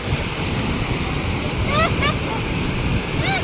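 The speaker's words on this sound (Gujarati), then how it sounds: "કેટલું બધું પાણી જાય છે અહીંયા તમે જોઈ શકો છો" After heavy rain, floodwater rushes past a broken bridge as a loud continuous roar, mixed with wind buffeting the microphone and a few faint voices or bird-like chirps in the background.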